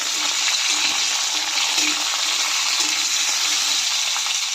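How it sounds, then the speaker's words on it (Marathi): Green chillies and radish roasting in a pan over low heat for radish chutney give a steady, close sizzle and crackle that holds unbroken throughout, with no talking. "मिरच्या, मुळा पण घालते यामध्ये. आता हे सर्व मंद आचेवर भाजून घ्यायचं"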